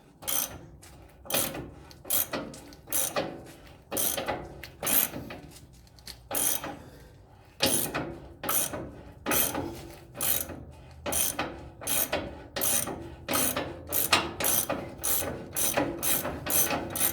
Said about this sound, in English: Just removing this last bolt holding the lower control arm in.